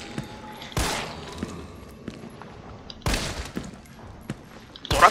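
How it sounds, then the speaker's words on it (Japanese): Handgun shots fired in Resident Evil 3 remake, three sharp loud reports spaced a couple of seconds apart, with faint background game sounds between them. "残りはハンドガン使って、レティキュルの収縮を丁寧に待ってから当てていこう。"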